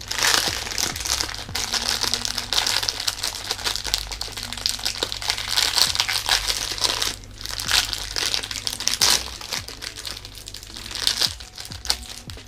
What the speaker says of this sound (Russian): пакетики нам, так скажем, не нужны. Ну, давайте их сразу будем вот в сторону выбрасывать.